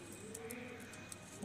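Pigeons of the pure kaal noky low-flyer breed coo softly several times at a distance over steady outdoor background noise.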